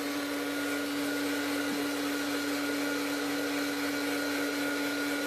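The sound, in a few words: heat tool drying mixed media planner page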